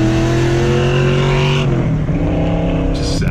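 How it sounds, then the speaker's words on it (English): Ford Mustang Fox Body accelerating hard on a highway, a loud, close engine note rising steadily in pitch through the gear, briefly dipping at a shift before climbing again. "of me doing some pulls in the car."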